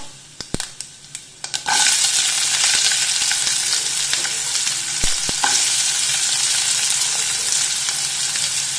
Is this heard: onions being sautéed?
yes